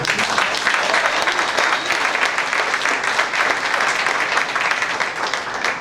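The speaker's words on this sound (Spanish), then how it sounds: "Un fuerte aplauso al Señor" Loud, sustained applause from a church congregation during a Sunday prayer service, dense and even throughout with no pauses.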